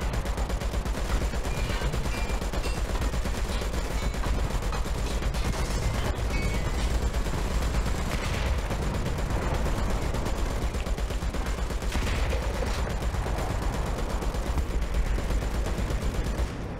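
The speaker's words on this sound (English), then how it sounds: "Someone's shooting for us, man." Rapid, dense gunfire in a War Thunder tanks-and-planes battle, a steady roaring barrage of shots and combat noise that stays loud and unbroken throughout, with no talking.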